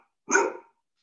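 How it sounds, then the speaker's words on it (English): A single dog bark, short, close and fairly loud, rising sharply and fading within half a second, with no talking around it. "Sorry, my dog."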